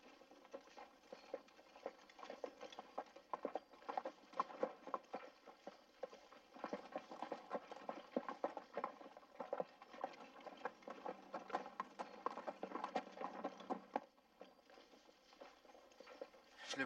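Horse hooves clip-clop steadily on a ranch in a western setting, a brisk rhythmic patter of repeated hoofbeats at moderate distance that runs nearly continuously and then eases off near the end.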